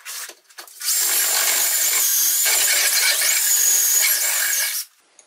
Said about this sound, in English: I just chuck the half-inch rod in a drill.